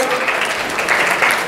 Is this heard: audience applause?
yes